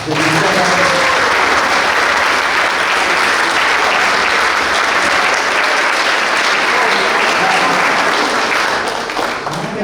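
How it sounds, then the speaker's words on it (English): Dense, sustained audience applause fills a lacrosse team banquet hall, loud and steady from start to finish with a broad crowd wash and no pauses. "Please give all these people I mentioned a big round of applause"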